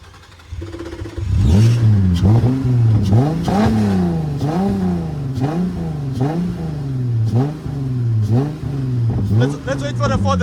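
A car spins in drifting circles at a Cape Town spinning event, its engine revving hard in repeated rising and falling surges, loud and close, with tyre and crowd noise and people talking underneath.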